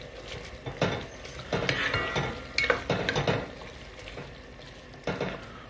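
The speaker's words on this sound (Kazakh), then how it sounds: "Осы туралған жуаны міне бірден салып, біз үстіне дальше қуыра береміз," Chopped onions being added to meat and stirred in a pan while making lagman, a Kazakh noodle dish: bursts of scraping and stirring with soft sizzling underneath, in uneven strokes close by.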